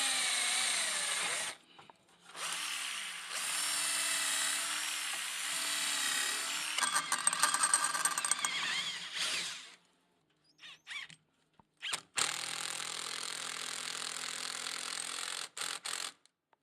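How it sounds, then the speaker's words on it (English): A power drill whines at high speed while boring holes through metal beam hangers during a dome restoration. The long bursts are broken by pauses, then come shorter stop-start bursts, all close. "Time to put them in place and drill holes in them and bolt them in"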